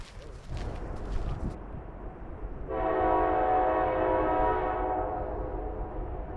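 A train's low rumble builds, then a loud sustained horn blares for several seconds over the rolling noise of the passing cars.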